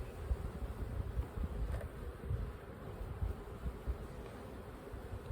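Honeybees buzzing around an open hive during an urban apiary inspection, a close, steady low drone of many wings that stays fairly quiet and constant with no talking.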